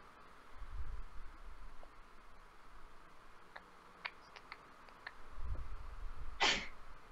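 A single short sneeze bursts out near the end over a quiet room, with faint scattered clicks and low thumps before it.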